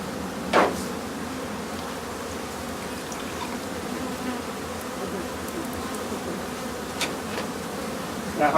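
Honey bees buzz around an opened hive during a mite inspection, a dense continuous drone with individual bees whizzing close past now and then and a few faint knocks.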